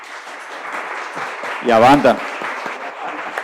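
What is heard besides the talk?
audience applause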